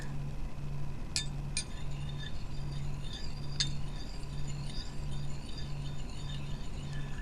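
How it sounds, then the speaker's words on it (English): A few light, bright clinks come from stirring inside a glass vessel, spaced out over a steady low background hum. "just a few more stirs"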